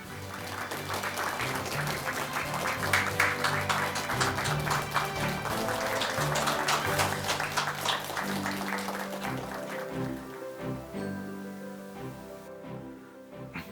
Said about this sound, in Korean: 그럼 이제 정영돈 교수님을 큰 박수로 모시도록 하겠습니다